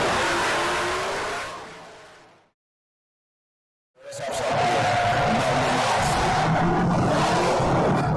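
Drift car at a Great Lakes ProAM Series competition: a loud engine revving and sliding, which fades out into a brief silence and then returns with a sustained, roaring high-rev slide.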